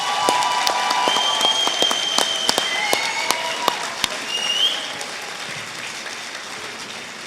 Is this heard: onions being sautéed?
no